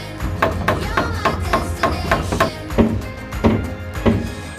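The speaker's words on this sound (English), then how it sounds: "Good hammering." Steady, loud hammer blows strike rustic wooden posts and beams during a mountain home build, about a dozen sharp thuds landing in an even rhythm close by.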